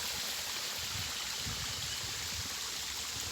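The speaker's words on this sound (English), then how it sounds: "And then down there we have the waterfall." Water in a stream near an ancient cave in Kisii flows down toward a waterfall, giving a steady, even rushing and trickling wash that runs unbroken and fairly faint, with no voices.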